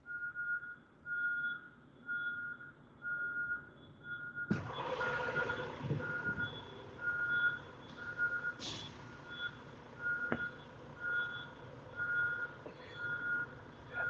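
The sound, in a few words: truck reversing beeps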